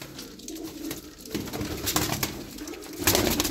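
Pigeons coo close by in a loft of racing-type birds, soft repeated throaty calls layered over a busy, rustling background with no talking.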